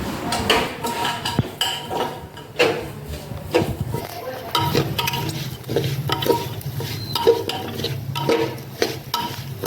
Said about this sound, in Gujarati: હવે ફાડા લપસીને શેકે છે ઘીમાં.